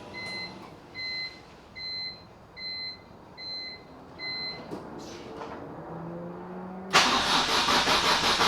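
A BMW E46 M3 with a new surge tank sits silent while an electronic chime beeps in a steady repeating pattern, then the engine cranks briefly and fires into a loud, close idle.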